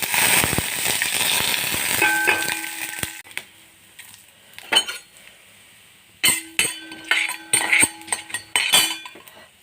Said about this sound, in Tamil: உளுந்தம்பருப்பு, கடலைப்பருப்பு, வேர்க்கடலை 3 வச்சுருக்கேன். இதோட போட்டுடலாம்.